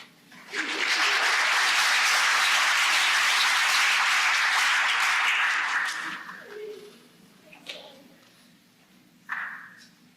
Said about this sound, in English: I think you should clap hands here.